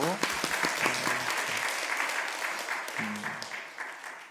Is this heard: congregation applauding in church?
yes